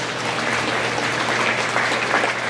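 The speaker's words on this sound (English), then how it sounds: "give these two exhibitors a nice round of applause" A crowd at a county fair beef cattle show claps steadily in a dense, sustained round of applause, with no voices standing out above it.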